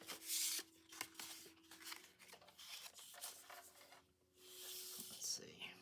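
Scissors snip and rasp through paper being cut into journal ephemera at a craft table, close and fairly quiet, with irregular cuts and rustling handling between them.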